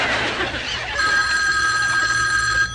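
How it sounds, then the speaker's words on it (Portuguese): A telephone bell rings with a bright, sustained electronic trill that starts partway in and holds steadily, fairly loud over a low background hum, with no talk. "Não, foi o telefone."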